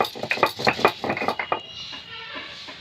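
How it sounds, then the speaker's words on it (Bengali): Coriander leaves ground together with green chillies and garlic, a quick run of rhythmic hard scraping strokes close by that stops after about a second and a half, leaving quiet room noise. "এবারে এই কাঁচা লঙ্কা রসুনের সাথে ধনেপাতাগুলোকে আমি ভালো করে বেটে নেব।"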